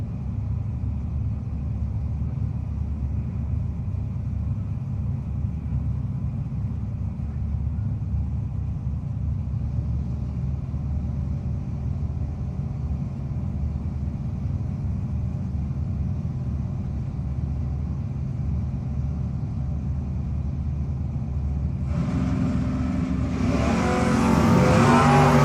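Drag race cars, including a Camaro, at a No-Box 660 shootout hold a steady low engine drone at the line, then erupt into a loud roaring launch and a pass down the strip near the end.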